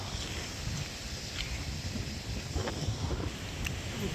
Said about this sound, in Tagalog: napakalakas ng hangin eh no?